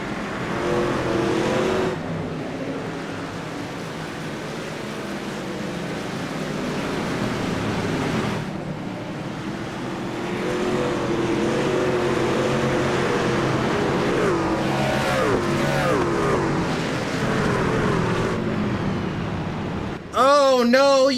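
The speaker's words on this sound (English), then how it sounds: "Let's go ahead and hear the sights and the sounds of the Platinum Truck Series" Race trucks in a Platinum Truck Series event at Martinsville in a racing video game, engines droning steadily and loud throughout with a brief burst of voice near the end.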